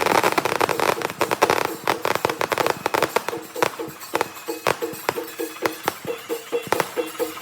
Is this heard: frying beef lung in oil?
no